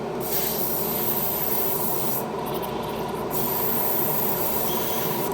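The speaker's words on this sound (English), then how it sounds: "let's just quickly run a little bit of airbrush cleaner through through this airbrush" An airbrush sprays airbrush cleaner in one steady, close hiss that holds for several seconds without a break.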